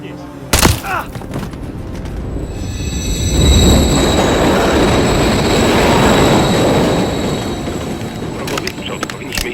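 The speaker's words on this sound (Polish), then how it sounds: "Kolejny pociąg, kurwa, ale szybko jadą." A fast train rushes past in the Call of Duty Modern Warfare 3 game, a broad rumbling roar that swells and holds for several seconds with faint high wheel squeal, following a sharp bang near the start.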